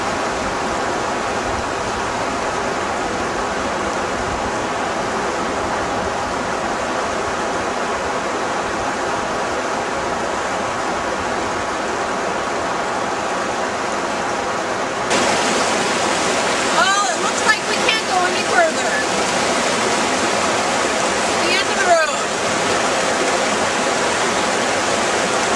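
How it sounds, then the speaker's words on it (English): The waterfall pours down from Bachelor Glacier in College Fjord, a broad, constant roar of rushing water that never lets up, with faint scattered voices and clicks joining in the second half. "There's a big, beautiful waterfall up on top that's causing all this water to come down."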